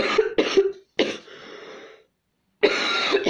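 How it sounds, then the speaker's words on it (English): Several harsh coughs in quick bursts, close and loud, with a short pause of silence before a final long cough. "I'm coughing so much."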